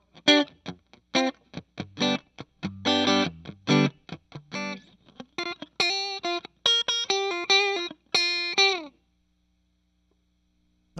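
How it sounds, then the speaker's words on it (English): Electric guitar played clean through an Orange Crush 35RT amp with the reverb off, a series of dry, tightly stopped chords and picked notes that end abruptly in silence. "Nice, dead dry, clean tone."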